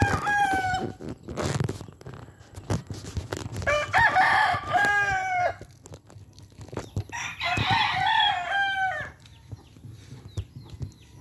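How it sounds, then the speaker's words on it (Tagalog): Backyard chickens cluck nearby while roosters crow twice, each long drawn-out call loud and clear over a busy outdoor background in the Philippines. "Ito mga manok namin"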